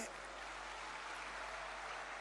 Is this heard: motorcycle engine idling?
no